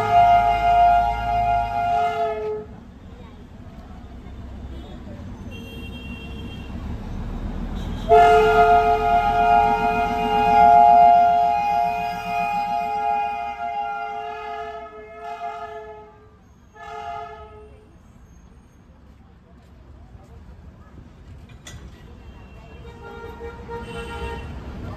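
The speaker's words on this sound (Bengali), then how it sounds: "এখন এখান দিয়ে একটা ট্রেন পাস করবে" A train passes through Ghum railway station, sounding loud, drawn-out horn blasts over a rolling rumble of wheels and engine that rises and fades as it goes by.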